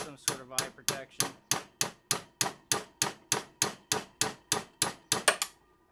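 Steady metallic hammer strikes driving out a gun barrel pin, about three per second, sharp and ringing, continuing in an even rhythm for several seconds before stopping.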